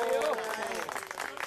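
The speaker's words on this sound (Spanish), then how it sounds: "Un nuevo aplauso para don Marco" Applause breaks out at a lunch gathering, a short, close burst of clapping from the seated guests under someone speaking over a microphone.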